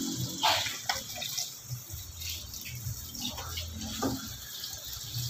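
Water runs from a kitchen tap into a sink, splashing unevenly with a few louder bursts, fairly close, with faint background noise and brief voices.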